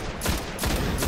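Gunfire from a video game cracks out in a quick burst of a few loud shots, close and alone.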